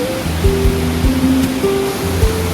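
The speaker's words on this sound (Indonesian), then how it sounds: "ini airnya tuh deras banget." Fast-flowing water at Curug Golosor waterfall, a loud, constant rushing hiss with a few low thumps mixed in, no talk.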